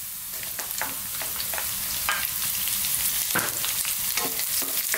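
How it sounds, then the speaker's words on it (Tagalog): Onion sautés in a pan for Filipino squid adobo, a loud continuous sizzle with crisp crackles and scraping stirs throughout, no voices. "So magigisa tayo ngayon."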